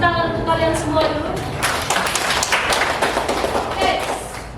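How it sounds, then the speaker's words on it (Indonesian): Eighth-grade students in a classroom break into a burst of hand clapping that builds after a moment, with a teacher's voice talking over it. "Tepuk tangan untuk kalian semua dulu."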